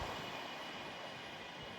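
A pair of Class 802 Paragon trains bound from London King's Cross to Hull rush past on the East Coast Main Line at Alexandra Palace, giving a dense, steady roar that fills the whole short moment.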